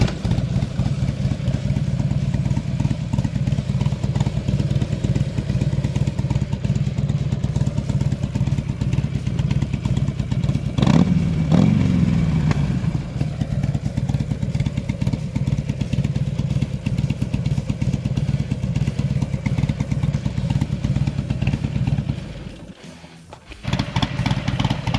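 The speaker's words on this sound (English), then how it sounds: "And of course it's got that classic Harley startup sound." A 2007 Buell XB12X Ulysses motorcycle engine runs loud and close in a steady, throbbing idle that holds for the whole stretch, with a brief rev-like swell near the middle and a short dip before it settles back.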